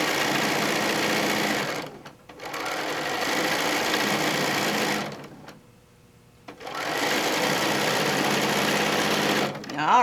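A sewing machine stitches through a quilt at the tack points, running in three long steady bursts of fast whirring separated by short pauses, loud and close with no voices over it.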